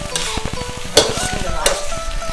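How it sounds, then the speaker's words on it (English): Rice for nasi goreng frying in a wok, sizzling under rhythmic metal spatula scrapes and clanks, with a couple of sharper knocks, close and fairly loud. "You see how the rice is jumping in the wok?"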